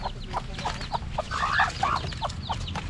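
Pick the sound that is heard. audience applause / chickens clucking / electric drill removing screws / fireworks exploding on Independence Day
chickens clucking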